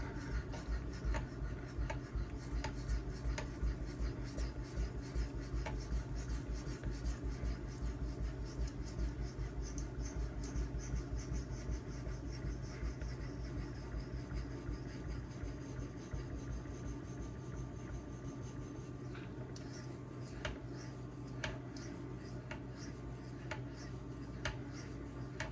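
ZDP-189 and Magnacut steel knives are sharpened on a Suehiro Debado whetstone under firm pressure, giving a continuous gritty rubbing and rasping with faint ticks, close and even throughout.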